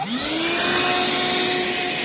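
A Hercules 1/2-gallon cordless wet/dry shop vac with a 5 amp battery starts up with a quick rising whine, then runs at a steady, loud, close motor hum with a high-pitched whistle.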